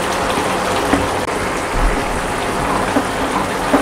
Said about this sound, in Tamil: பாருங்க கிரேவி நல்லா கொதிக்குது